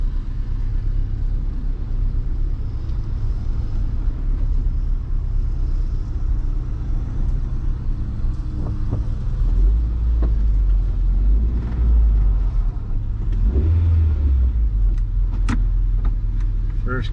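A rebuilt Honda CR-V drives along with a steady low cabin rumble and road noise. The engine note swells briefly as it shifts through the gears, heard from inside the car.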